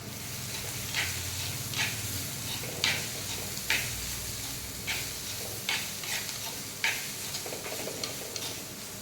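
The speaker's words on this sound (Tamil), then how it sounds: "அது போட்டு நல்லா எல்லாத்தையும் மிக்ஸ் பண்ணிவிட்டு நம்ம மூடிடலாம்" A spatula stirs home-ground chilli powder and spices into vegetables in a pan. Regular scraping strokes land about once a second over a soft, low sizzle. The sound is fairly quiet and no one speaks.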